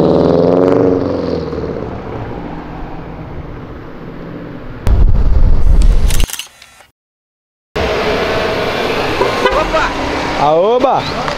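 A pearl-white Subaru WRX accelerating away from an event gives a loud engine roar that swells into a sharp, harsh burst, then breaks off into silence before the roar returns. People's voices are heard around it.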